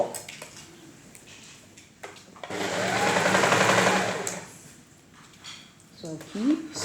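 A sewing machine runs one short, fairly close burst while stitching a lined princess-dart blouse, with quieter handling sounds and a voice talking around it.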